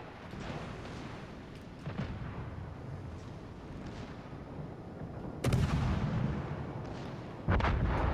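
Warship guns firing in World of Warships: Legends during a PvP battle with a T5 Leone, a steady rumble of repeated booming shots with louder, heavier blasts near the end.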